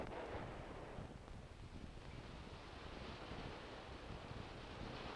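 Ocean waves break in the surf zone of a sandy beach, a low, continuous rumbling wash of surf with gusts of wind buffeting the microphone, fairly faint and heard without any talk.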